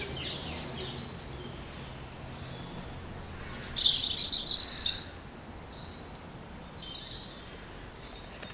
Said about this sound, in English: This lovely liquid song is a robin.